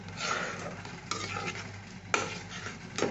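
Cheese being stirred into a cheesy white sauce for hilsa fish in a pan, heard as a quiet sizzle with soft scraping strokes of a spoon recurring every second or so.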